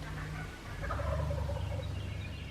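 A wild turkey gobbles loudly in the woods, a short burst of rapid gobbling in answer to hunters' calls, heard at a moderate distance with no talk over it.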